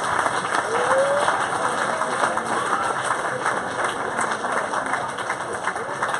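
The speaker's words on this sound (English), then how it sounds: "A round of applause for Mr. Sadger" Applause for Mr. Norman Sadger at a billfish tournament awards dinner, a broad steady wash of many hands clapping, loud and continuous, with crowd murmur beneath.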